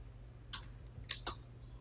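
A few sharp clicks of a computer keyboard being typed on, quick and isolated, close and fairly soft against a quiet background.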